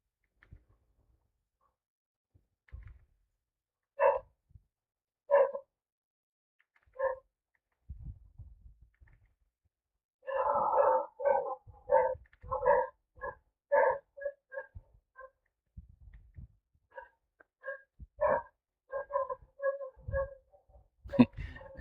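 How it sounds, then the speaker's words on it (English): A dog barks repeatedly in short bursts, first sparse then in a rapid flurry, with occasional people talking faintly nearby. "And the dog started barking."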